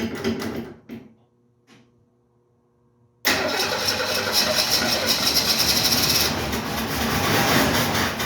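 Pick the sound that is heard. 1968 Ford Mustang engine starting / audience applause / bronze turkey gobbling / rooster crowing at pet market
1968 Ford Mustang engine starting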